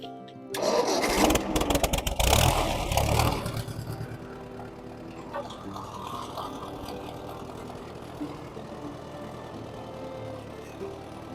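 An old tractor engine cranks and catches with a loud rumbling burst, then settles into a steady, lower chugging idle.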